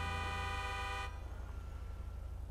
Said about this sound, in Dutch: Het was eigenlijk weer zo'n mega zotte toeter.